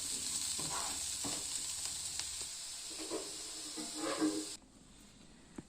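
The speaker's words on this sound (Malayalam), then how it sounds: "അതൊന്ന് വഴറ്റിയെടുക്കണം." Mezhukkupuratti vegetables sautéing in a pan, with a steady close sizzle broken by soft stirring scrapes before it cuts off abruptly near the end.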